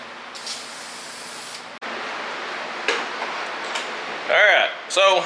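Steady hiss of a thin coating sprayed onto a car bash bar for an IS300, continuous and close with brief breaks, faint voices near the end.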